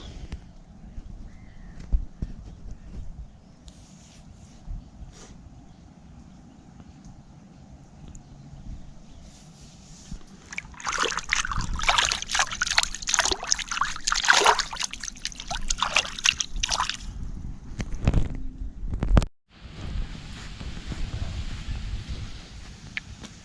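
Water trickles and dribbles on a person's body: quiet, sparse drips at first, then a louder burst of splashing and pouring midway before easing into a softer, steady trickle.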